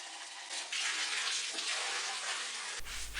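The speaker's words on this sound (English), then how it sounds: "Fill up the bucket or a tub" Tap water gushes steadily into a bucket or tub, a continuous bright splashing rush that stays loud and close, ending with a brief change in tone near the end.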